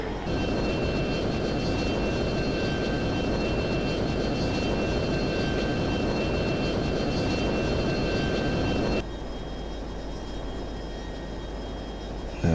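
Jet fighter engine roaring in flight in the F-22 Total Air War game, a dense steady rumble with a thin high whine, continuous and loud before dropping to a quieter drone near the end, no voices.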